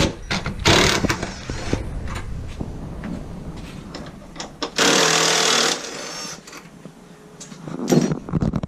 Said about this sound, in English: you take a 10mm socket, put it on the impact gun.